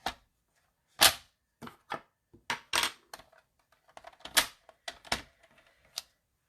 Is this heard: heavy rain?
no